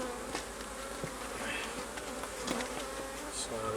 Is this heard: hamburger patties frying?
no